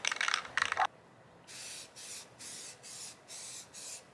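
A spray can of primer hisses onto a trials bike part: two short sprays, a pause, then a rhythmic run of about six brief bursts, all fairly faint and close.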